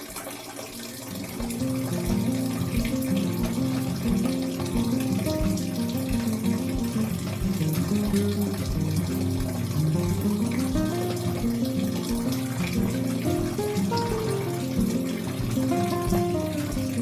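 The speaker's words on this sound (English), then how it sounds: "Midway through adding water" Water pours steadily into the fermenter of a home beer brewkit, a continuous rushing, filling sound that holds at an even level from start to finish with no voices.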